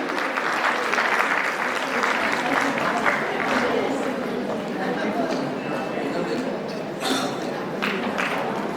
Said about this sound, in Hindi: देखिए महासभा से हमारे आज अतिथि पधारे हैं, तो तालियां जोरदार होनी चाहिए।